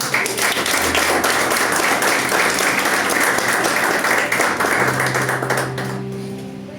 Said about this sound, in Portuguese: Aplauda o Senhor Jesus, meu irmão.